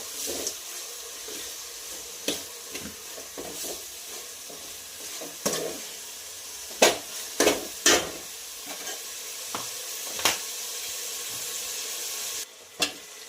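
Chopped tomato and green chillies frying in a pan for a spicy Marathi varan, a soft continuous sizzle with occasional sharp taps and scrapes of a spoon stirring.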